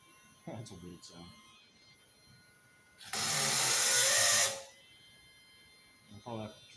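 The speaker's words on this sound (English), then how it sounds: "I'll probably have to drill through that again." A power drill boring into steel, one loud continuous burst of harsh, hissing grinding lasting about a second and a half, set between quieter stretches with a voice heard briefly before and after.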